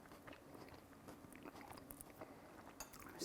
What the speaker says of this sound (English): I love the crunch of the water chestnuts.